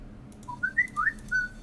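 A short rising whistle-like notification tone from a phone, a few quick chirping notes over soft room noise, clear and close.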